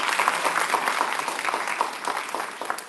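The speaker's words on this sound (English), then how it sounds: "Make sure y'all give them a round of applause one more time" An audience at a youth symposium session gives a round of applause, a full, continuous crowd clapping that stays loud and even for the whole few seconds.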